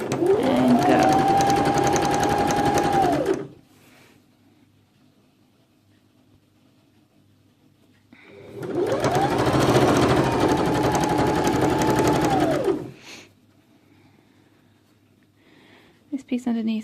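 A sewing machine stitching a quilted comforter runs in two loud, steady whirring bursts of a few seconds each, separated by a near-silent pause.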